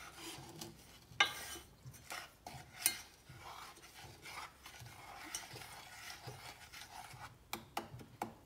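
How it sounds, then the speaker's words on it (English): A spoon scrapes and clinks in a bowl while milk is stirred into a mixture to form a paste for a trifle, with quiet, irregular rubbing strokes and occasional sharper taps against the side. "And kind of mix it up to try and get a sort of paste."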